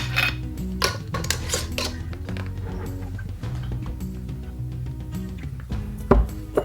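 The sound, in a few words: putting lids on jars while canning maple syrup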